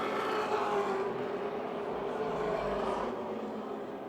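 Race cars running on a short speedway oval at the Motordrome Speedway, engines droning steadily at a distance in a dense, continuous roar with a faint swell near the middle.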